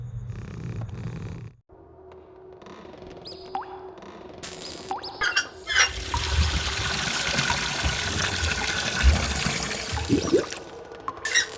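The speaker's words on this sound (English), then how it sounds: "The sink's all full of water now." Water running and trickling into a sink in the point-and-click adventure game Anna's Quest, a steady filling hiss with gurgles and small clunks, moderately near and heard alone without talk.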